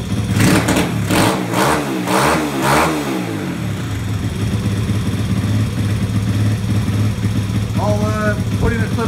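A 1983 Honda ATC70 three-wheeler fitted with a swapped-in Molkt carburetor revs hard several times in quick succession, then settles into a steady idle, with a short voice near the end.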